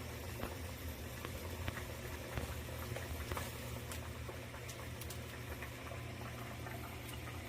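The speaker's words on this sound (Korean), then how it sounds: "자 이제 물이 끓었요" Water at a rolling boil in a pot for ramen, a steady bubbling and pattering hiss with a low hum underneath and no talk.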